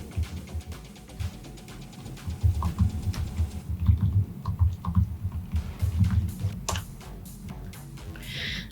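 Keys on a computer keyboard clatter in a quick, uneven flurry as a password is typed, close and continuous over several seconds.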